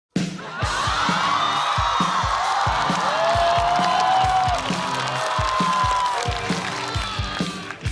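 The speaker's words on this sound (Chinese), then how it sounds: "我们掌声有请嘻哈" A stand-up comedy show audience bursts into applause, cheering and scattered whoops as a comedian is welcomed on stage, with a dense roar of crowd noise that holds steady before easing off.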